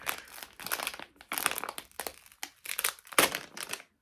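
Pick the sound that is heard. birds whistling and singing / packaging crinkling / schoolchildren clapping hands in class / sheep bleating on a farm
packaging crinkling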